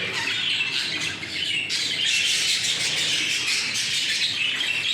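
A flock of budgerigars squawks and chirps continuously, a dense, busy chatter of many birds close by with no talking.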